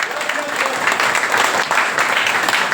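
Loud, sustained applause from an audience, many hands clapping together in a continuous wash, with a few voices faintly under it.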